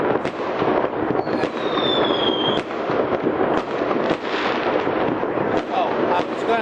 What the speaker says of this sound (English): with all the fireworks going off